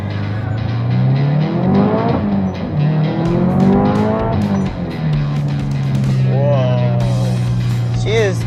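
A tuned Subaru STI accelerates hard, its loud engine climbing in pitch through two gears and then settling into a steady drone, with a brief rising whine near the end.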